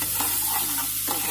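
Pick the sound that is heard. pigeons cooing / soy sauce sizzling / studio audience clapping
soy sauce sizzling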